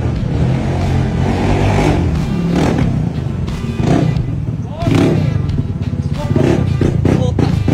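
A loud motorcycle arriving, its engine revving and droning close by and fairly loud, with voices talking over it.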